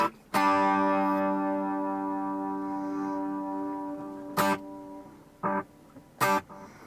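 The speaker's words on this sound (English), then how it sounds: "It's a long delay." A sustained guitar chord rings out and slowly decays, followed by three short plucked stabs whose echoes repeat and trail off, through a Line 6 long delay effect.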